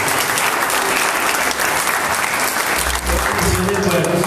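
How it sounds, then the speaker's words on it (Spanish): A church congregation applauds the King of God, dense sustained clapping from a crowd filling the room, with a voice speaking over it. "Den un aplauso al Rey de Dios."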